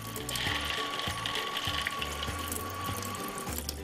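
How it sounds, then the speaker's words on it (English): Warm water pours steadily into a small container of okra seeds, a continuous close splashing trickle running alone for several seconds. "What I'll do is I'll pour a little bit of warm water"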